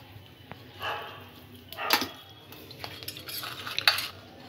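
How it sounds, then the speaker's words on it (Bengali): Fried noodles stirred in a pan to cool, close metallic scrapes and clinks at irregular intervals over a quiet background, with no talking. "এভাবে একটু নাড়িয়ে ঠান্ডা করে নিতে হবে।"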